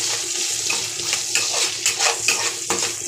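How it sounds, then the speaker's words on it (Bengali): Potatoes frying in a pan for a vegetarian paneer dish, with a steady sizzle and the scrape and clink of a spatula stirring them in repeated strokes, close up, with no talking. "আলুগুলো ভাজা হয়ে এসছে"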